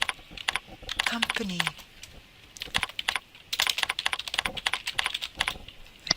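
Bursts of close computer keyboard typing, quick clustered keystrokes in two runs with a short pause between them, while a person speaks briefly.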